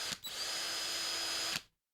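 A power drill spins up after a brief start, whines steadily at a high pitch for over a second, then cuts off abruptly into silence, close and loud.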